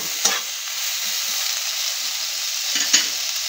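Steady sizzle of chopped whole tomato frying in a pan with other ingredients, a continuous hiss broken by a couple of scraping stirs of the spoon, close and fairly loud with no talking.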